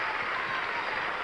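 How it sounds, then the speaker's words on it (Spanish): A studio audience on a 1985 Menudo television show applauds in a dense, continuous burst of clapping and crowd noise, loud and steady throughout. "Un fuerte aplauso"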